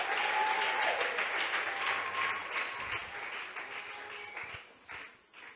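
A congregation applauds during a French-language church service, sustained clapping filling the room for several seconds and easing off near the end.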